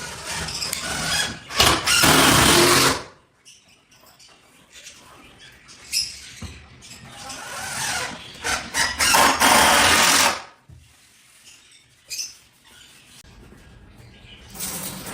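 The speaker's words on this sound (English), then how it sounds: "Carefully cut the mesh with metal snips to the length you need" Metal snips cutting through wire mesh sheet for a ringneck parrot aviary, bursts of loud rasping, squealing cuts with gaps between strokes, close and without talk.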